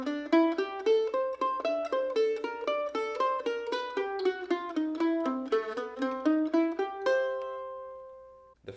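Mandolin picking a bluegrass tag lick from a tune: a quick, clean run of bright plucked notes sliding through the phrase, ending on a ringing held chord that fades, played solo and close.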